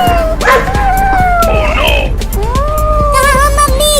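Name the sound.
dog barking in a cartoon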